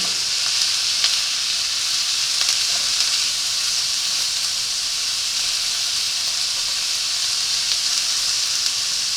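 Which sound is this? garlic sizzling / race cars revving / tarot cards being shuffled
garlic sizzling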